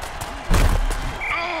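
Hard tackle in an American football video game: a single heavy, low thudding impact lands near the middle, followed by sustained crowd roar and arena noise.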